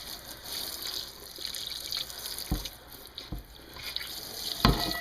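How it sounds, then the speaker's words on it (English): Tap water runs steadily over a burned cast iron pan being rinsed in a sink, a continuous hiss with a few sharper splashes and clunks from the pan. "I'll go ahead and rinse it"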